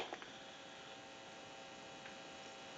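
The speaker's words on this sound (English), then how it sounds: "If you hear any humming or anything like that, it will be coming from the amplifier and not the payphone." A steady, faint electrical hum comes from an amplifier hooked up to an AT&T single-slot payphone being repaired, a constant mains-type drone with a couple of tiny clicks at the start.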